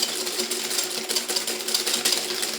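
A sugar and egg mixture whisked hard and fast in a bowl for fraisier mousseline cream, giving a steady, busy whirring with rapid scraping that stays close and even throughout.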